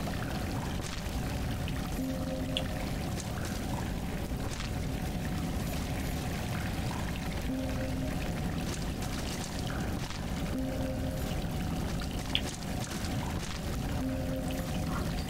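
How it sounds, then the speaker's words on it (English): A steady rushing waterfall in the video game Salt and Sanctuary pours continuously as a dense wash of water noise, with faint tonal game sounds drifting over it and no talk. "You can hear the waterfall."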